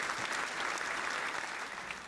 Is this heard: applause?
yes